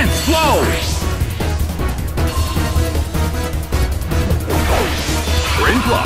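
Hit impacts in a Pokemon Battle Revolution battle: dense crashing thwacks and whooshing swipes, loud and continuous, with bursts of sweeping effects layered over game music.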